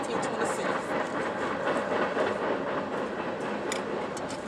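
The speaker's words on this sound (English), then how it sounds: "You live by train so long, sometimes you don't hear it, but since I'm outside, I hear it." Train passing near a house, a steady broad rumble and rattle of rail cars heard from outdoors, continuous through the moment with a faint click near the end.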